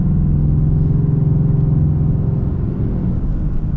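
A 2022 AEV Prospector XL Ram 2500 heavy-duty truck on 40-inch tires accelerating at 4,500 feet elevation, giving a loud, steady, deep engine rumble that holds throughout with no speech.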